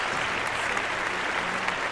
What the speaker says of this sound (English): so that's a big round of applause